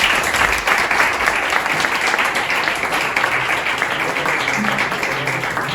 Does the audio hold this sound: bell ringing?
no